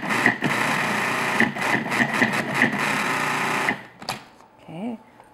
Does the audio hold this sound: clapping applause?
no